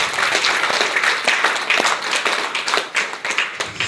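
An indoor audience claps together in a dense burst of applause, loud and close, with individual hand claps rippling through and a few voices underneath.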